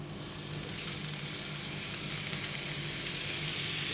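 Ribeye steaks sizzle on a hot electric grill, a steady, close, dense hiss that holds evenly throughout with no talking.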